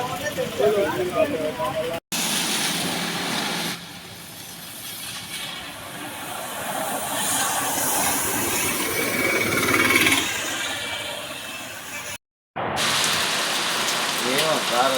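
Steady rain from a cyclone in Nellore district, India, hisses and patters on a surface throughout, with brief interruptions and some faint mechanical noise in the background.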